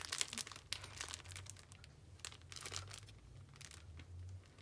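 Plastic bag of craft mail rustling and crinkling as it is handled, soft intermittent crackles fairly close over a low background hum.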